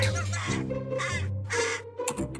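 A crow caws up close, giving four harsh, strident calls in a steady rhythm, each loud and drawn out, with a shorter clipped call at the end.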